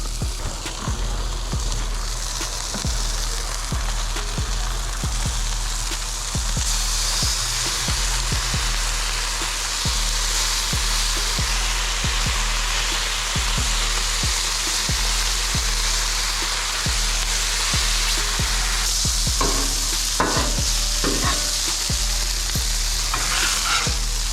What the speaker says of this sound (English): We got that sausage cooking. Then go and throw that bacon on there.